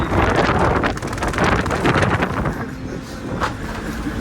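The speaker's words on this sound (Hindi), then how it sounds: "खतरनाक हवा चल रही है, बहुत खतरनाक।" Strong, dangerous gusting wind roars and buffets the microphone, loud and continuous, rising and falling in heavy blasts from a high, exposed spot.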